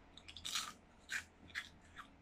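Close, crisp crunching bites and chewing of puff pastry nibbles, several separate crackly bursts in quick succession with no talking.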